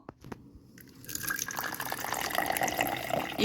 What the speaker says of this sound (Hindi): रुकिए टीना चाची, मैं बाल्टी में पानी भर के लाता हूँ।